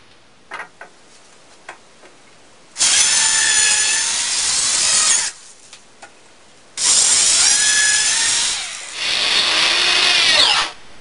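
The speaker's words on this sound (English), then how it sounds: "I took two 10-foot 2x6s and cut them down to 8 foot" Power saw cutting 10-foot 2x6 lumber down to 8 feet for a heavy-duty work table frame, three loud sustained cuts separated by short pauses, preceded by a few light taps.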